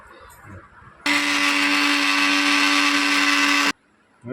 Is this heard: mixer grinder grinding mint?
yes